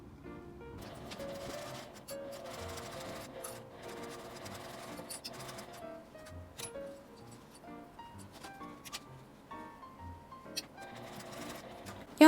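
A sewing machine stitching a zipper round pouch, quiet and close, in short bursts of stitching broken by pauses, with occasional light clicks and handling noises.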